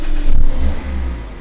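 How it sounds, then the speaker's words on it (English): A Mazda MX-5, previously crashed and now being rebuilt, fires up and revs loudly close by, its mid-pitched engine rising and falling in a short burst with no voices over it. "To the roar of that engine."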